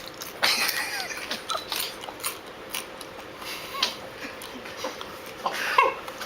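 Someone bites into and chews a crunchy insect up close, with a few sharp crunches and wet chewing sounds spread across the clip and no talk over them.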